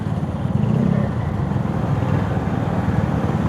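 Steady engine drone of heavy road traffic around a motorcycle ride near the Barangay Malabañas boundary, a continuous close low rumble with no pauses.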